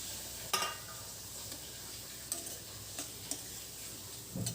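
Chopped capsicum and sautéed onions fry in a pan with a steady low sizzle, broken by a few sharp clicks and taps of a spoon against the pan. No one speaks.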